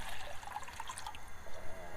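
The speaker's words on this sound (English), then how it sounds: "So I'm just gonna add some water." Water pours in a steady, close trickle with scattered drips from a canteen into a pot while cooking buffalo chicken mac and cheese outdoors, running continuously with no talk over it.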